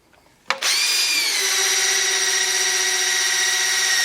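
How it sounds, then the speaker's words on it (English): A power drill spins up and runs steadily to prime the oil pump of a 454 engine, a sharp start followed by a loud, continuous high whine with no talking. "I'm going to hook up the drill and see if I got any oil pressure."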